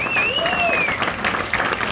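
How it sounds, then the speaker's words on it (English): Audience applause at a live event honoring military veterans, a steady wash of clapping over two seconds with a brief whistle-like tone near the start and faint crowd noise underneath. "Let's give these guys a round of applause."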